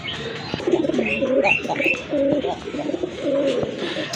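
Red Rajgolla pigeons, a domestic Bengali breed kept as a pair, coo in soft repeated throaty phrases close by, with a few brief higher chirps from other birds in the background and no talking.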